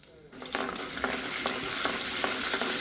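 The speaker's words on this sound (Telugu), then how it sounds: "ఇవన్నీ ఇప్పుడు మంచిగా ఫ్రై అవ్వాలి" Chana dal and turmeric sizzle in hot oil as a tempering for tomato roti chutney, a steady frying hiss with faint regular stirring taps, close and fairly quiet, no voices.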